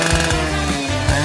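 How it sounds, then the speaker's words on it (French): A chainsaw cuts into a huge cake with a loud, close, rough buzzing drone that stutters as the motor revs up and down over just over a second. "Comme ma tronçonneuse."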